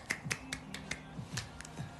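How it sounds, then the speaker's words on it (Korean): One person claps slowly and unevenly, about nine sharp, light hand claps spread over two seconds, quiet and close with a faint hum behind. "박수."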